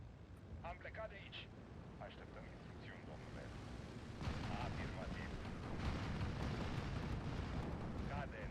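Artillery fire in the Steel Division 2 strategy game sounds as dull, distant booms and a continuous low rumble of shelling under a voice.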